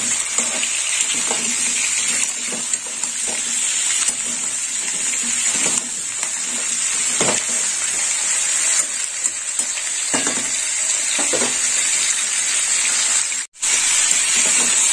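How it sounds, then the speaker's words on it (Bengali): Mixed vegetables with papaya frying in a pan for Helancha greens sukto, a steady close sizzle and hiss running the whole time with occasional stirring scrapes and a brief dropout near the end. "সবজিটা একটু ভাজা হয়ে গেছে"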